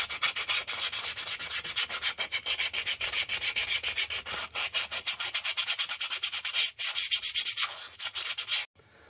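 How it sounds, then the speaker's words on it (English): Hand sanding of a birch plywood slingshot, rapid rhythmic back-and-forth rasping strokes close to the microphone, steady and bright, pausing briefly near the end. "now we're just going to give it a final sanding"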